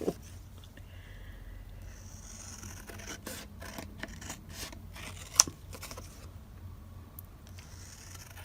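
Long-bladed scissors snip through scrapbook paper in a quick series of soft, close, crisp cuts over a faint background hum.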